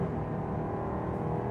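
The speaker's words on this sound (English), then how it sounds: "There's the sound of that Pentastar V6 full throttle." The Pentastar V6 of a 2021 Jeep Grand Cherokee L drones under full throttle, a low, steady engine hum heard from inside the cabin, fairly quiet and with no one speaking.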